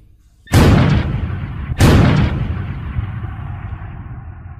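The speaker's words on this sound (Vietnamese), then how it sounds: "một tiếng nổ ầm vang lên và hàng loạt đạn tiểu liên nổ vang" Two loud, close blasts about a second apart in a wartime battlefield, an explosion followed by submachine gun fire, each a sharp boom followed by a rumbling roar that slowly fades.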